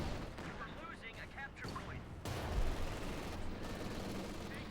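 Tank cannon fire in the real-time strategy game Company of Heroes 2, in a Wehrmacht versus US Forces battle with Panther and Pershing tanks: a loud booming blast about midway through, over continuous battle rumble and faint voices.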